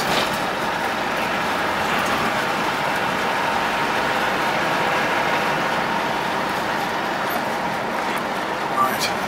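A 1988 Land Rover 110 with a 300Tdi diesel engine drives along, giving a steady broadband road and engine rumble that holds even and close throughout, with no clear speech over it.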